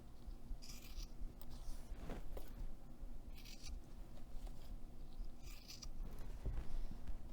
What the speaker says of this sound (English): you'll just trim the fabric so that it's even with the zipper tape